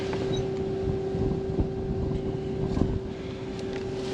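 A John Deere combine harvester runs steadily with its feeder house chain spinning, a constant droning engine hum with a steady tone, heard up close and loud under some wind noise, with no voices.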